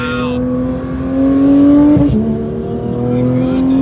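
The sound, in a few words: Porsche GT3 accelerating on the road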